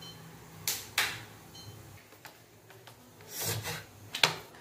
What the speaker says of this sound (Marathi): ह्याची पोळी लाटून घेऊया, जसं आपण पोळी लाटतो ना त्याच पद्धतीनं।